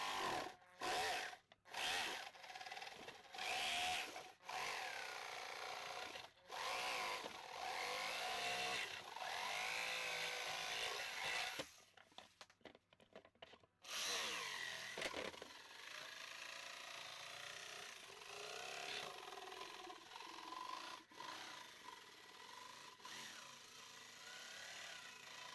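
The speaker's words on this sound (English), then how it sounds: "Now we're just going to cut these holes out with just a hand jigsaw." A hand jigsaw cuts holes in material for a homemade cyclonic dust collector, its buzzing motor running in long loud bursts with short pauses and restarts, close up and alone.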